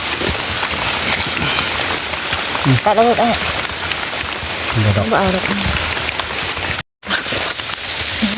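Steady rain falls through a forest, a dense even hiss that runs throughout the whole stretch, while someone talks intermittently close by over it.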